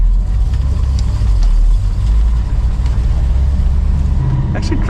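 A Dodge Charger with a manual transmission is driven along, its engine giving a steady, loud low rumble from inside the car that continues without a break for about five seconds.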